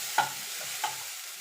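Egg chowmein gets mixed in a pan over a soft steady sizzle, with two quick scraping clinks of a spatula against the metal.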